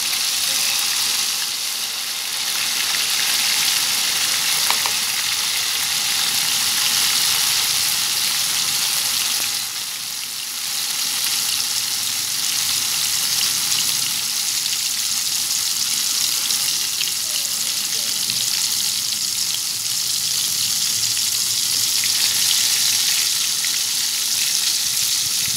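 Torn tofu skin (yuba) fries in hot oil with a loud, continuous crackling sizzle that holds steady and close throughout.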